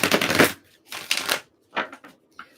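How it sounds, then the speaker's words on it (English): Tarot cards are shuffled in three close, brisk bursts with brief pauses between, ending in a faint tap. "Let me get one more shuffle."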